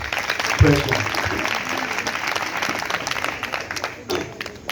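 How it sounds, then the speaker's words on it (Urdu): A church congregation claps loudly during a Urdu-language sermon, a burst of applause that rises to a sharp peak early, then continues as steady clapping with a brief surge near the end. "اگر میرے ساتھ ہیں تو پھر تالیاں بجائیں زوردار"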